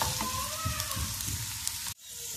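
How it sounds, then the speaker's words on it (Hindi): Potatoes fry in a pan with a lightly oiled, steady sizzle and hiss that cuts off abruptly near the end, followed by a softer crackle. "ठीक है, हम पोटैटो हमारे फ्राई हो रहे हैं।"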